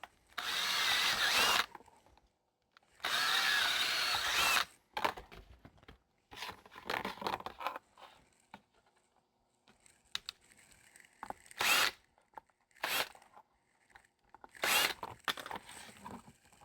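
A power drill whirs in several bursts while making a holster from a mold for a Walther PDP pistol, two long runs followed by shorter, intermittent drilling with clicks and handling noise between.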